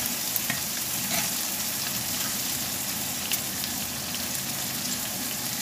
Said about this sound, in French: Allez, on fait revenir tout ça comme il faut